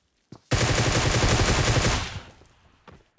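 A Tommy gun fires in the PUBG Mobile video game as one loud, rapid automatic burst lasting about a second and a half, close up and alone, followed by a fading echo.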